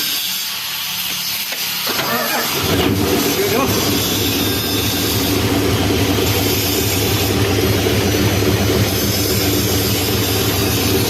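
A vehicle engine starts and keeps running, settling into a loud, steady roar after a couple of seconds of quieter idle, with people talking over it.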